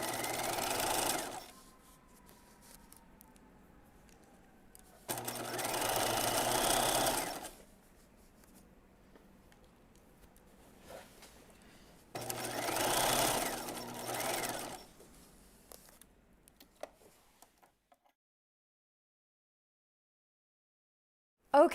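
Three bursts of a sewing machine stitching a seam in gingham cotton for jeans, each running a couple of seconds with quiet pauses between them.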